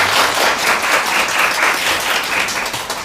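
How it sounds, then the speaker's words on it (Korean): An audience at a lecture and book concert gives a steady, dense round of applause to welcome the speaker, with continuous clapping filling the room. "박수로 맞아주실까요?"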